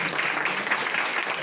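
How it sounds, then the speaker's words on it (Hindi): Steady audience applause at a community gathering honoring people who have helped out, a dense wash of many hands clapping continuously at moderate level throughout. "और बाकी लोग तालियां बजाते रहे।"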